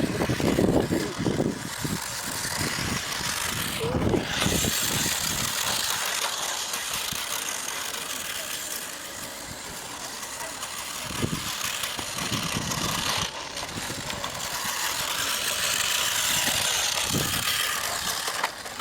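A vintage Tamiya Holiday Buggy RC car drives around a park, its electric motor whining steadily with rough surges and bumps as it runs close by, alone with no talk.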